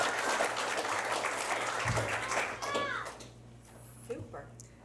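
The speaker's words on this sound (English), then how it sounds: "a round of applause" Applause from an audience at a school board of education special meeting, steady clapping filling the room for about three seconds before thinning out, with a few voices and a child's chatter over it near the end.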